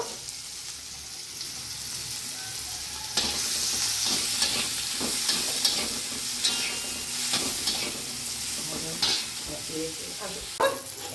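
Chopped onion and tomato frying in a pan with turmeric and salt, a steady sizzle with stirring scrapes and clinks, close and fairly loud, with no talking.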